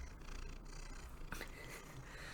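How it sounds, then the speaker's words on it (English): A domestic cat purrs on a lap right beside the microphone, giving a close, steady, rumbling purr that fills the whole stretch with little variation. "You're going to hear him purr because he's decided he wants to sit next to the microphone on my lap."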